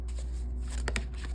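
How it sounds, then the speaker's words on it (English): Tarot cards are shuffled by hand, a short soft riffle with a couple of quick flicking snaps near the end, close and quiet over a low steady hum. "Let's shuffle a little bit."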